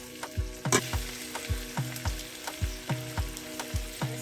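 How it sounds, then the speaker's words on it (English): Drained potatoes fry in melted butter in a skillet, giving a steady sizzle with a regular pattern of soft low thumps, close and moderately loud. "Add your drained potatoes, and we're going to allow it to cook for about 4 to 5 minutes."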